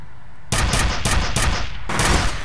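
Gunfire in the video game F.E.A.R. comes as loud rapid bursts, five or six heavy pulses of automatic fire in quick succession after a brief quiet start, close and punchy, with no talk.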